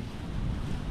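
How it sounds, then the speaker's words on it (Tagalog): Strong wind buffets an outdoor microphone, producing a steady, loud low rumble for a brief second with no voices. "lakas ng hangin"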